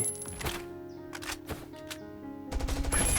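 Gunfire in the survival video game Last Island of Survival, shooting zombies: several sharp bursts and single shots spread across the clip, then a denser rapid volley at the end over a faint game hum.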